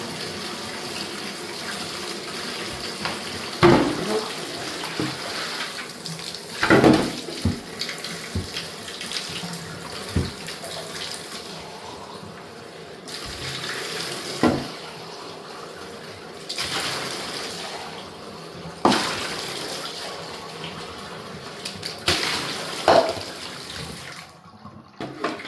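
Part of a Honeywell Quiet Care humidifier rinsed under a running tap, a continuous splashing stream with water breaking irregularly over the plastic, near and moderately loud, with brief surges and pauses and no speech.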